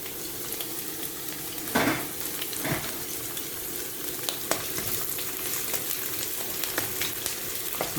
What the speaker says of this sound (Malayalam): നമുക്കൊരു ഗോൾഡൻ നിറമാകുന്ന വരെ ഒന്ന് ഇളക്കി കൊടുക്കാം